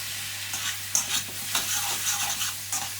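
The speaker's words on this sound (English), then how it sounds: "Just stir that into it." Garlic and ginger paste being stirred into Bombay potatoes frying in a pan, with scraping spoon strokes over a continuous close sizzle and a low steady hum, no talking.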